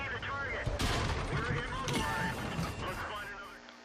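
A Matilda IV tank gun fires in World of Tanks on the Ruinberg map: sharp loud blasts followed by rumbling battle noise and a metallic ring, with someone talking over it.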